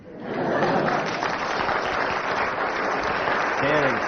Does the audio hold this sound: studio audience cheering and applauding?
yes